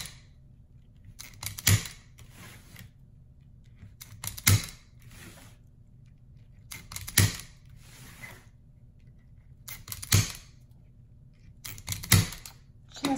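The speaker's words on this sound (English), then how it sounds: "take our zip tie gun, and get those tightened and cut." A zip tie gun tightens and snips zip ties on a DIY poinsettia Christmas wreath, giving five sharp clicking bursts spaced about every two to three seconds, close and crisp, with no talking.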